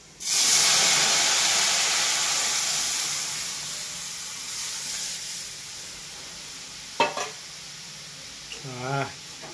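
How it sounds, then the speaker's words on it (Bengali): Hot tempering of fried onion, garlic, dried red chilli and five-spice seeds is poured into cooked horse gram dal, giving a loud sudden sizzle and hiss that slowly fades, with a few clinks of a utensil near the end. "এবার আমি ডালটা ছনকাবো"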